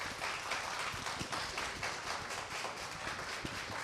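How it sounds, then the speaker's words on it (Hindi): A school audience claps loudly for Mother India and Uncle Moon during a Raksha Bandhan poetry recital, a steady wash of applause sustained throughout without any voices. "तो बच्चों, एक बार जोरदार तालियां भारत माँ और चंदा मामा के लिए।"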